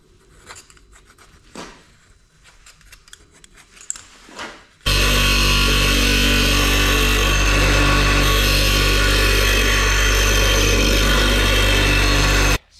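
A loud, continuous power tool cuts out a steel bracket for a Massey Ferguson 50B tractor cab repair, starting abruptly after a few seconds of quiet shop noise and running steadily to the end.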